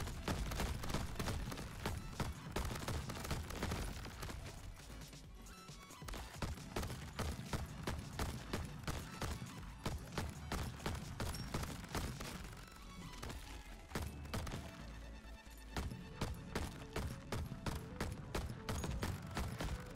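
Rapid, continuous gunfire from a new weapon in the video game Crab Champions, dense bursts of shots in steady rhythm layered over game music and effects, with no talking.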